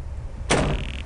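A door opens in the horror video game Nira Oni: a sudden broadband creak-thump followed by a sustained high metallic ring lasting about half a second, alone over a quiet background.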